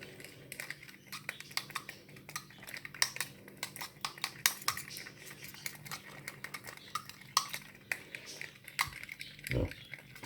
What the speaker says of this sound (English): So we've got to keep stirring till it's cooled down.